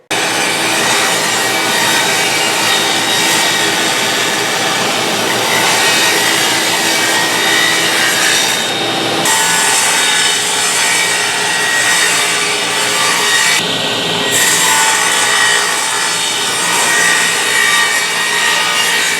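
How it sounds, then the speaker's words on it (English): A saw rips a single cut down the center of an oak board with a loud, continuous grinding whine that drops out briefly twice before resuming. "I'm going to put a single cut right down the center of this piece of oak."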